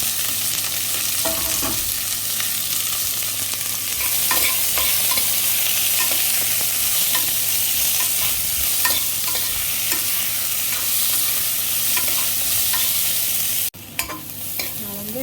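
Onion and garlic fry with mustard seeds and curry leaves in hot oil, a loud continuous sizzle with scattered stirring scrapes, cut by a sharp clatter near the end.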